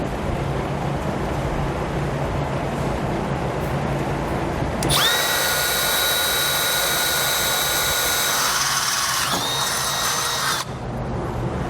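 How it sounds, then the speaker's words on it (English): A power drill with a small bit bores a pilot hole while installing a base plate on a 2019 Ram 1500 Classic, whining at high speed for several seconds with a slight pitch dip near the end, then stops. "I'm going to come back with a smaller drill bit than our instructions say, just to get a pilot hole started."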